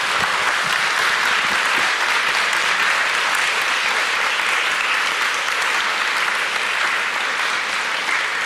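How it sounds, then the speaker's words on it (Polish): An audience claps for the guest speakers, two history professors, at the close of a lecture and discussion, producing a steady, dense wash of applause that holds at an even level throughout. "Brawa dla naszych gości."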